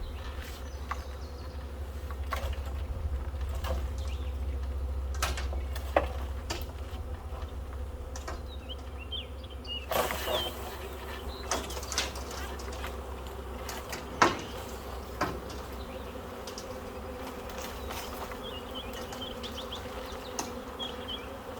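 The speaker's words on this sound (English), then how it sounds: "I got the vast majority of the bees in the bucket that time." A dense, steady hum of a honey bee swarm buzzing inside a bucket fills the scene, broken by occasional knocks and scraping clicks.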